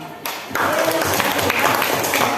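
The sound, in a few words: classroom applause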